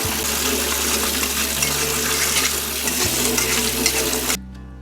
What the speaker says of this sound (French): je les égoutte, je les rince à l'eau froide.